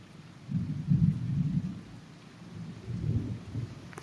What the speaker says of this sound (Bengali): আসমান ডাকতেছে